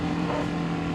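A steady engine of a new motorcycle being broken in hums at high revs in second gear, around 3000 to 6000 rpm, a close, continuous droning growl with no break in the brief moment.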